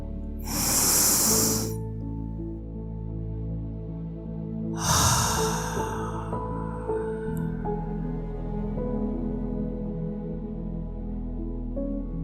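A long, deep inhale during guided meditation, loud and close as breath rushing in, followed by a second breath a few seconds later over a steady low background hum.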